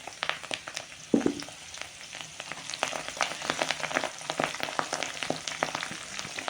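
Amla (Indian gooseberries) frying in oil for homemade hair oil, a continuous soft sizzle with many small popping crackles and one brief louder clatter near the start, no voices.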